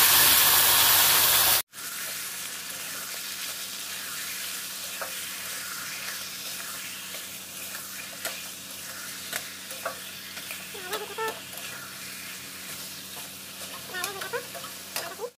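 Meat curry fries and gets stirred in a kadai, a steady close sizzle with a scraping spoon and small bubbling pops scattered through it, following a brief burst of loud steam hiss at the start.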